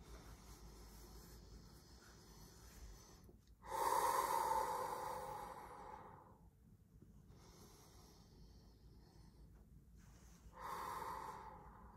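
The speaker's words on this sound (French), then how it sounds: "On va simplement prendre une grande respiration." A single deep breath drawn in during a guided breathing and meditation exercise, a soft inhale swelling near the mic then fading, followed by quieter breathing and a second breath later, with no talk.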